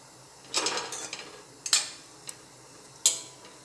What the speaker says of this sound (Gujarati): કઢાઈમાં આપણે માવો એડ કરી અને માવાને શેકી લઈશું